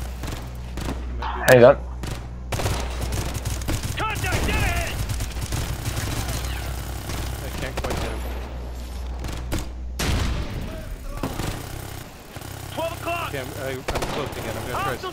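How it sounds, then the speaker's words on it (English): Enemy gunfire in Ghost Recon Future Soldier crackles in scattered shots and bursts under a low rumble, moderately loud with a sharp peak early on, while a player speaks briefly. "Okay, he's shooting at you now."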